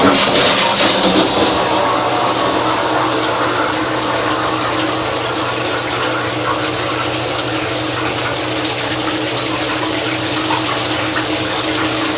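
Loud, steady rush of running water from a push-button shower in a train cabin on a long cross-Canada rail journey, with a continuous mechanical hum beneath it.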